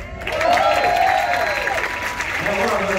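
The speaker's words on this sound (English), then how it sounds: "Going to give him a big round of applause when you get him out here." Audience applause and cheering at a cruise show welcoming a singer, a dense wash of clapping that swells early and stays steady under a voice that sweeps in pitch.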